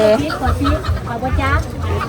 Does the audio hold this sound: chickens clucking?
yes